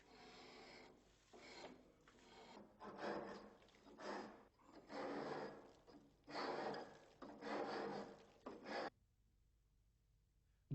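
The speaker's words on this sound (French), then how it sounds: "Pour creuser les rainures d'encastrement des tuyaux d'arrivée d'eau ou des gaines électriques, nous nous servons d'un grattoir à main." A hand scraper cuts grooves for pipes and cables into Ytong aerated concrete, giving close, raspy scraping strokes in about six rhythmic bursts before stopping, with no talking.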